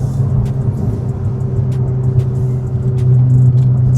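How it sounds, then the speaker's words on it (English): A 2024 Porsche 911 Turbo S turbo engine accelerating in sport mode, heard from inside as a loud, steady low rumble and drone. It builds slightly near the end, with no talk. "Oh, that turbo sounds magnificent."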